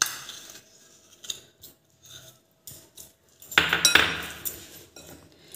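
Flour, baking soda, salt and jaggery are stirred together in a bowl, with scattered scrapes and clinks of a utensil, then a louder burst of clattering and rustling toward the end, close by.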